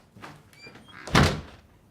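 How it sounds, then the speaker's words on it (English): A door slamming shut indoors, a single loud, sharp thud near the microphone, preceded by faint rustling and movement. "Hey, Ty, what do we say about letting the door slam"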